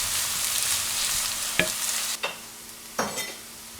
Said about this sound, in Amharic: በሻችን ሲግል ሽንኩርታችንን እንጨምራለን።